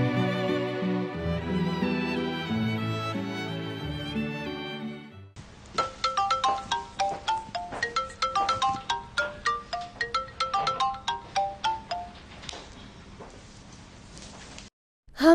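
A mobile phone ringtone plays a bright, plucky melody of repeating notes, loud and clear with no talk over it, after a stretch of fuller background music.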